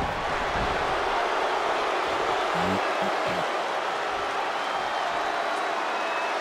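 A loud arena crowd roars in the WWE 2K20 video game wrestling match, a dense, constant wash of cheering and noise that fills the whole stretch, with a brief low voice murmuring beneath it.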